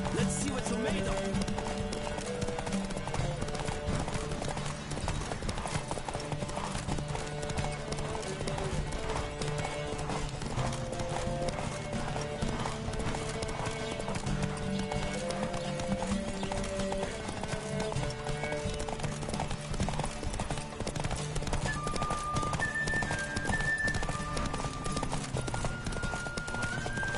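Horse hooves gallop at a steady rhythmic clip through The Witcher 3: Wild Hunt, continuous and fairly close, under a layer of orchestral game music and occasional voices.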